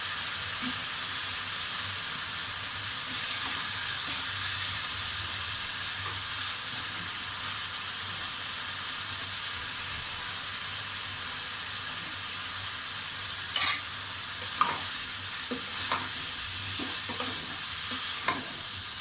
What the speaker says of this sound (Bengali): বিটরুটের ডাঁটাগুলো রান্না করব আলু দিয়ে, এটা সেদ্ধ করে রেখেছি, ওটাতে লবণ দিয়ে দিয়েছিলাম, দিয়ে দিলাম সবজিটা